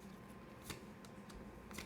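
Tarot cards are pulled from a deck, giving a few soft, quick papery flicks and slides spaced about half a second apart, faint and close with no talking.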